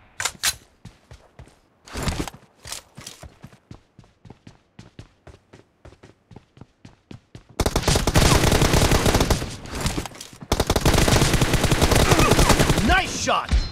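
M416 rifle fire in a mobile shooting game: first a run of separate sharp shots and short bursts, then loud, sustained automatic fire that pauses briefly before resuming.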